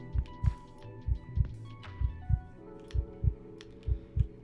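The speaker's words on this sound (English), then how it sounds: "Can't wait to listen to that stupid heartbeat noise now." Heartbeat sound effect from Hypixel SkyBlock repeats as steady paired low thumps, about two beats per second, loud and close over a faint game background with no talk.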